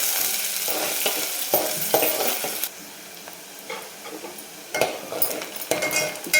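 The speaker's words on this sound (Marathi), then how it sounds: "कांदा जरा 2 मिनिट परतून घ्यायचा आहे छान एकदम, म्हणजे थोडासा सोनेरी कलर होऊ द्यायचा आहे." Sliced onion sautéing until golden in a pan for a spicy mutton curry, with a steady sizzle broken by several bursts of stirring and scraping, plus a loud stretch near the start and again toward the end.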